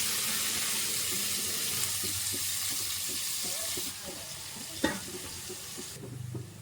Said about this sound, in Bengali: ধুয়ে নেওয়া সামাইগুলো জল সমেত এই যে এই ঘিয়ের মধ্যে দিয়ে দেব।